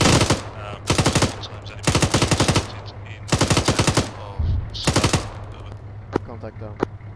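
Rapid bursts of small arms fire crack loudly in the Arma 3 video game, several automatic volleys separated by short gaps, with faint radio voices between them.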